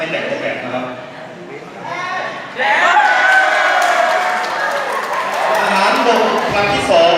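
A crowd at a Thai military draft lottery cheers loudly as a card is pulled, a swelling roar of many voices that jumps up partway through and stays high, with talking mixed in.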